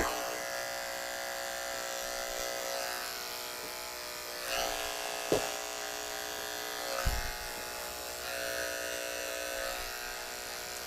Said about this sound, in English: so I'm going to use this 40 blade to shave around that dew claw.